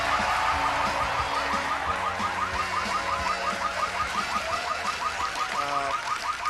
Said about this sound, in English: See that? I've set off the metal detector.